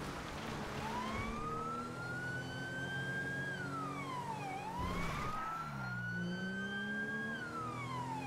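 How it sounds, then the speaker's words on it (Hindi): An ambulance siren in GTA V wails continuously, its pitch sweeping up and down over a low steady hum, with no talking. "मतलब वो एम्बुलेंस का आवाज तो आ रहा है भाई"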